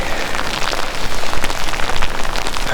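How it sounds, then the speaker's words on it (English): Heavy rain pours down around a cyclist out on a bike ride, a loud, dense hiss of drops striking surfaces with irregular heavier spatters, close and continuous. "This rain is really coming down."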